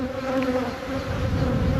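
Honey bees buzz steadily in a nuc hive, a close, continuous drone with a sustained hum that holds unbroken throughout.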